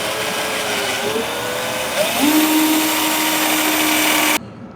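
A drill spinning old engine valves from a 1950s engine whirs steadily at a high pitch, shifting tone briefly midway, then cuts off abruptly near the end.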